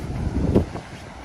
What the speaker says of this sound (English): Sorry about the wind if it's windy.